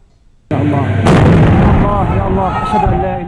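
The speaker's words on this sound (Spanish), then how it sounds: "Los bombardeos del ejército de Bashar al-Assad son constantes" A sudden heavy artillery blast from bombardment in Syria booms out after a brief quiet, followed by sustained rumbling and crackling, loud and close.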